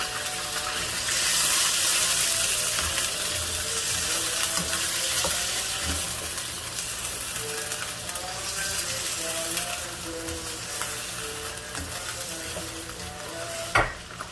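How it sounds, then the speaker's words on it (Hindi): Chicken pieces fry in oil in a karahi for a restaurant-style chicken karahi, giving a loud, continuous close-up sizzle with occasional stirring scrapes and a sharp clank near the end; no one speaks. "चिकन जो है हमारा फ्राई हो रहा है।"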